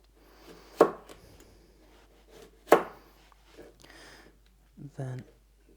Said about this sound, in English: so I'm going to cut those into little cubes